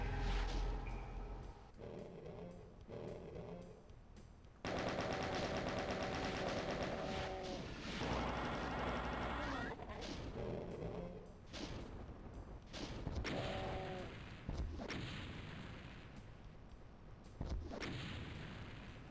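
Rocket launcher blasts aimed at Cacodemons in the 1994 PC game Doom II, several sharp explosive bursts with rumbling tails and a stretch of rapid gunfire-like clatter, loud and separated by brief quieter gaps.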